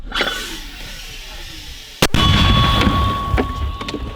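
One sharp, loud artillery shot cracks out partway through, then a sustained low rumble lingers afterward over a faint steady hum.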